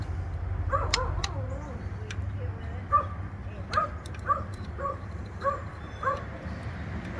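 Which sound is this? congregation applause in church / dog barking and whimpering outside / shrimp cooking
dog barking and whimpering outside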